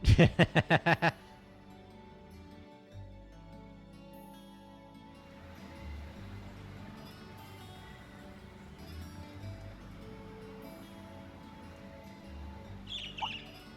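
A bird in the Trails of Cold Steel video game lets out a quick run of loud, sharp chirps at the start, then falls away to a quiet, low musical backdrop.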